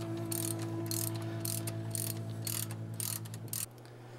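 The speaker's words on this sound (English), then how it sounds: "All right, we got our belt tensioner on," Mechanical whirring and rhythmic ratcheting from work on a belt tensioner fitted to an engine, a steady drone with regular clicking bursts about every half second that stops abruptly near the end.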